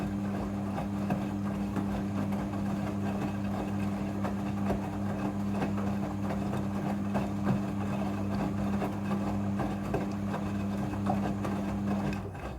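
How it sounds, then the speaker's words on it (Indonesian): A front-load washing machine runs its rinse cycle with water, giving a steady, loud motor hum with a constant low tone and continuous churning beneath it throughout, with no talk. "Pada proses pembilasan dengan air, mesin cuci akan mengatur jumlah kebutuhan air secara otomatis."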